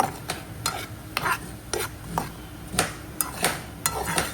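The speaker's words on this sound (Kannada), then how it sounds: "ಬ್ರೊಕೋಲಿ ಆ್ಯಂಡ್ ಮಶ್ರೂಮ್ನ ಹಾಕ್ಬಿಟ್ಟು ಚೆನ್ನಾಗಿ ರೋಸ್ಟ್ ಮಾಡ್ತಾ ಇದ್ದೀನಿ" Broccoli and mushroom roasting in a pan, a spoon or spatula scraping and tapping the pan repeatedly over a soft sizzle, close and fairly quiet.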